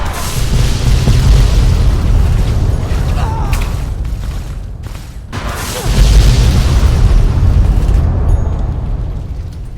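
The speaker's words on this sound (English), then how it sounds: "Carpet bomb an area." Heavy carpet-bombing explosions from Fallout New Vegas roll in as a continuous loud rumbling barrage, with a brief lull mid-way before a fresh wave of booms swells and slowly fades.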